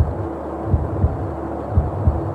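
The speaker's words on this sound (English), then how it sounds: "So you only hear the heartbeat when you're looking around in first person." Heartbeat in first-person view in the Manhunt video game: low, muffled double thumps pulse at a slow, steady pace, loud and alone over a faint background hum.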